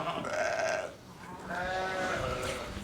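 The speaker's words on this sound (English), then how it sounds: "Just have a look at the ewes as we look in here." Ewes bleating in a lambing shed, several overlapping calls near and loud, with a brief pause between two long bleats.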